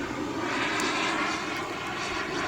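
A Flyfly Hobbies Viper 2.2 RC turbine jet in flight produces a continuous, even roar with a high whine on top. It is loud and steady for the whole moment, with no voices.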